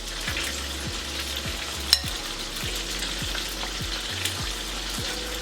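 French toast sizzling in a pan over medium heat, a steady close frying hiss with occasional crackles and a few small clinks, no talking.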